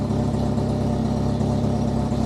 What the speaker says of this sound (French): vous entendez le bruit de pétaradage, c'est normal